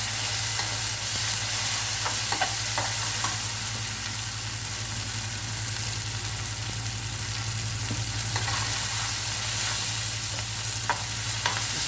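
Onion, ginger garlic paste and sliced green chili fry in a pressure-cooker pot for chicken masala, giving a steady close sizzle and hiss throughout, with occasional scrapes and clicks of stirring and no talking.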